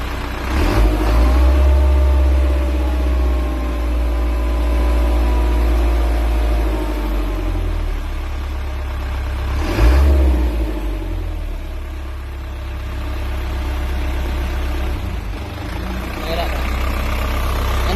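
A hot car engine running during a workshop inspection, a loud steady low idle with a couple of rising revs, and voices talking faintly under the engine noise.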